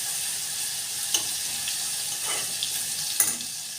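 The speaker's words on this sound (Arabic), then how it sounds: "هننزل بقى كده بالثوم في قلب الزيت بتاعنا لحد ما ياخد لون دهبي كده جميل" Garlic frying in hot oil until golden, a steady close sizzle and hiss broken by a few light clinks of stirring.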